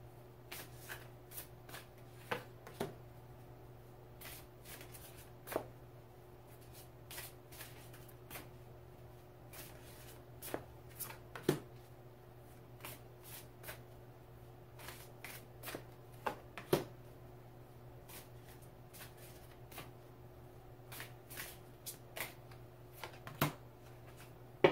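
A deck of playing cards is shuffled repeatedly, with crisp riffles and snaps recurring irregularly over a steady low hum, close and fairly quiet with no speech.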